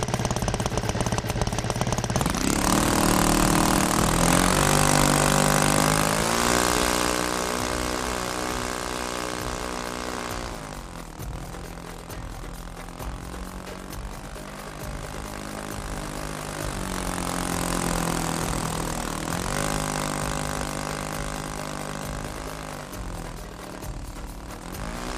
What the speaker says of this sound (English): Let's take this little GB up for a quick spin